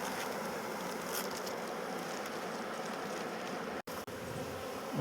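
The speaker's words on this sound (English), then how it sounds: "A lot of bees going in." Honey bees fan and stream into the front of a hive outdoors, a dense, continuous buzzing drone close by that holds steady with only a brief cut near the end.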